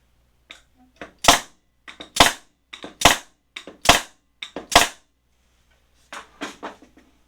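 NeuMaster nail gun driving 1.25 inch nails into rosewood, five sharp loud shots spaced about a second apart, each preceded by a faint click, with a few quieter clacks after.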